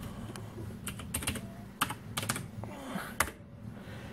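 Typing on a cheap computer keyboard with rainbow LED backlighting, close and fairly quiet, a quick uneven run of plasticky key clicks with short pauses and a couple of louder taps.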